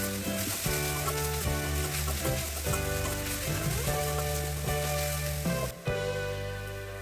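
Steady loud sizzling of hummingbird tree leaves frying in a pan, with scraping and clattering from stirring with two spoons over the top.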